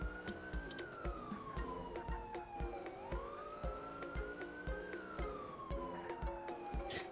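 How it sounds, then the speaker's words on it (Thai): A wailing police car siren in a video game rises and falls in long sweeps, loud and steady, over a busy rhythmic backdrop of clicks and game noise. "คือรถตำรวจ"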